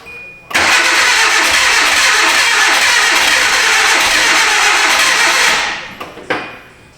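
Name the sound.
2010 Hyundai Accent engine cranking and trying to start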